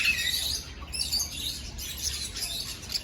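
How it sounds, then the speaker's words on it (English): Rescue parrots call and chirp in a large, roomy aviary, a steady chorus of overlapping high squawks and tweets from many birds at moderate distance, with no talking. "the aviary's got quite a lot of birds in"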